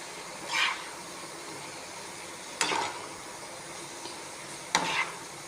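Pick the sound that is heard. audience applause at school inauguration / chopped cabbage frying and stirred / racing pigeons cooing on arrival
chopped cabbage frying and stirred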